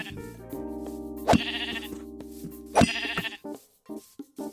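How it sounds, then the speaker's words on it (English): A Minecraft sheep bleats loudly twice in quick succession, close by, over layered background music from the game. "let's kill a sheep"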